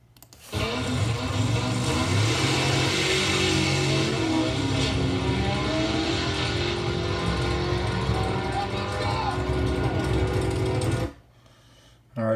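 Race car engine accelerating hard through a 10-second drag pass, a loud, sustained high-revving roar that holds for about ten seconds before cutting off abruptly.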